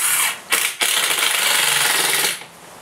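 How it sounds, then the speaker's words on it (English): A power drill drives screws into the wooden floor of a small DIY gypsy-wagon camper trailer, with loud whirring bursts broken by two brief pauses before the motor winds down near the end. There is no talking. "I'm just going to put a couple of screws in to hold it in place while I put down the rest of the floor"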